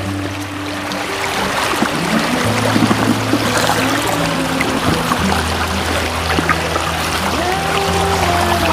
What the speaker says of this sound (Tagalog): Malakas kasi ang agos.